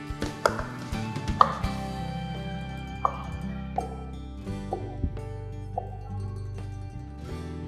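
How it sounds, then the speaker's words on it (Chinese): A knife chops 100 grams of chicken breast into thin strips on a cutting board, with sharp, irregular blade strikes recurring about once a second, fairly close and clear with no talk. "那再来我们要将这100公克的鸡胸肉切丝"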